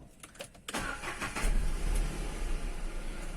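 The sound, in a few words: Renault Kwid car engine starting and idling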